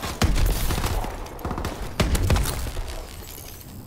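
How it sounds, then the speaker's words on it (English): Grenade blasts and dense gunfire in Call of Duty Advanced Warfare's last-man-standing mode, with heavy booming impacts around the start and two seconds in over continuous loud battle noise. "God, can you stop throwing grenades?"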